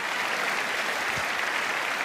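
Dense applause from a crowd, a steady wash of clapping that holds at an even level throughout.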